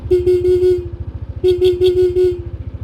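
Muffled horn of a Yamaha Nmax 125 scooter, two bursts of short rapid beeps close by, separated by a pause, over a low pulsing idle.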